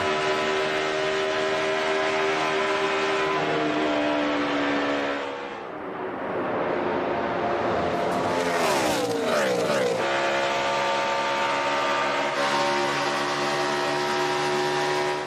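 NASCAR stock cars race at Michigan in 2012: a loud, continuous engine roar fills the scene, then a pack screams past close by with a sharp falling whine, followed by the steady drone of more cars circling.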